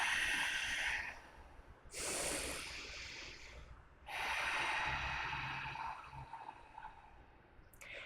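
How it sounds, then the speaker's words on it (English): Slow, deep yoga breathing during a power vinyasa session: long, close, airy inhales and exhales alternate with pauses, heard alone without talking. "Full, slow, steady breath. Big inhales and full exhales."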